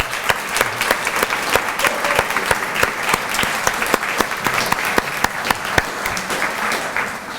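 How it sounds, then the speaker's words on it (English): An audience at an Earth Day celebration in a barn at Franklin Park Conservatory gives a steady round of applause, individual sharp claps standing out within the continuous crowd clapping. "let's give a big round of applause for the Earth"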